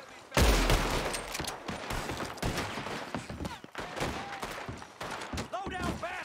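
Rapid gunfire from a shootout in Red Dead Redemption 2, with a loud opening blast followed by dense, overlapping shots and bursts that continue steadily, mixed with shouting voices.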